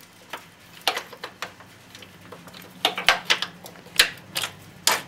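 Metallic clicks and taps while a bolt is fitted and tightened on a motorbike near the brake cylinder actuator rod, about a dozen sharp, close ticks at irregular intervals with no talking.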